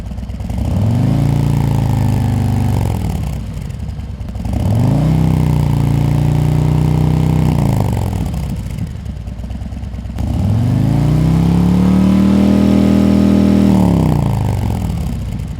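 A Harley-Davidson motorcycle fitted with Khrome Werks HP Plus performance baffles rumbles loud and close, blipped through three rising-and-falling revs with idle dips between them.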